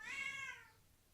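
A person imitates a cat's meow: a single drawn-out, falling vocal cry, close and clear, fading out after about half a second with nothing else around it.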